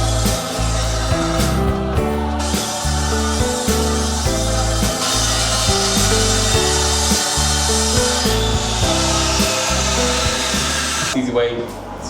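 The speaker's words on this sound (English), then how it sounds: "rip along with the circular saw, and I know I've got a nice straight and square cut" A circular saw rips a long straight cut through a large 8x4 sheet, a loud continuous whine with rhythmic grinding pulses running steadily for the whole stretch, dropping off at the very end.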